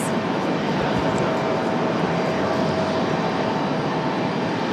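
An Airbus airliner at Raleigh Durham International airport gives off a steady, loud broadband jet roar that holds evenly throughout without any voices.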